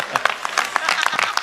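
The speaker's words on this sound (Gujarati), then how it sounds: "જોરદાર તાળીઓથી વધાવો" An audience at a Gujarati comedy show applauds: a brief burst of close, rapid, uneven clapping from a crowd, with no voices over it.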